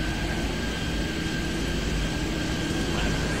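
A jet airliner rolls for takeoff in the airport-control game Airport Madness at Toronto Pearson, a steady, even engine roar held at constant loudness, alone with no voices.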